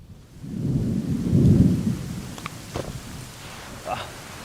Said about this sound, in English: this is actually fake movie rain